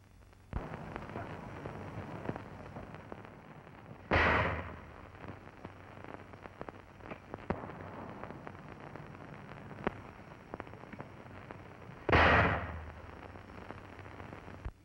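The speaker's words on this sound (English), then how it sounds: "Here the mortar is firing the demolition shell." An M252 81 mm mortar fires demolition shells during army training, two loud, sharp booming blasts about eight seconds apart, each with a brief rumbling tail over steady outdoor background noise.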